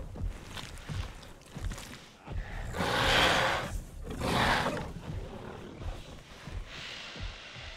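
Dinosaurs in Jurassic World Evolution 2 roaring at each other, two long harsh roars in succession amid rumbling, growling game ambience.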